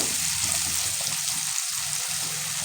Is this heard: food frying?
yes